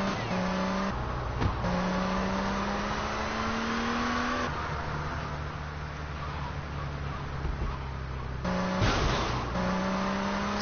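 Engine of a car driven in the game GTA Vice City, steady tonal drone that climbs in pitch through gear changes and revs, loud and close, with brief bursts of other game noise and no talk over it.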